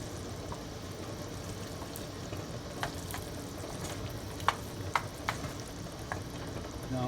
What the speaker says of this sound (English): So we go ahead and get this butter melted down.